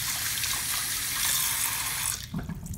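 Hot water runs steadily from a tap supplied by a Rheem tankless water heater, a continuous close splashing hiss that falters as the flow is shut off at the end.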